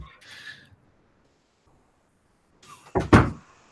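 A door closes with a heavy, close thud after a short sliding rustle, preceded by a brief scuffing sound and a quiet pause.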